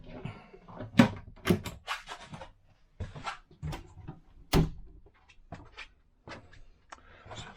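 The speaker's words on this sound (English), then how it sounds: "sorry for the squeaky trainers" Squeaky trainers on the floor of a 2005 Fiat Ducato CJ 7-berth motorhome, giving a string of short, sharp squeaks and thumps at irregular intervals, close by, with brief quiet gaps between steps.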